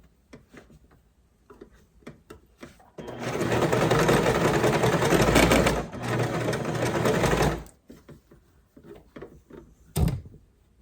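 A sewing machine stitches a doll's shirt 1/4 inch from the edge on the inside, running loud and steady for about five seconds with a brief slowdown midway, framed by handling clicks and small bumps.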